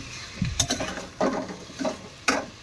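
Potatoes sauté in a pan on a home stove, with a steady sizzle broken by several scraping stirs of a spatula at uneven intervals, close and fairly loud, with no voices.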